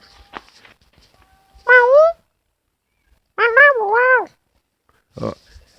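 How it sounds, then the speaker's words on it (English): A cat meows three times, clear and close, with rising-falling cries separated by pauses; a short nasal squeak ends the sequence. "I think there was maybe a different cat."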